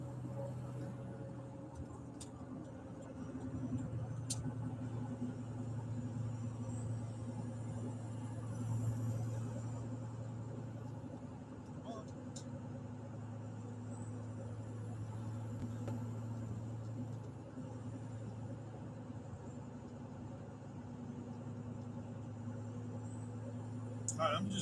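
Car driving on the road near Route 66 and Route 81, with a steady low engine and road hum throughout, under occasional talk from the driver inside the cabin.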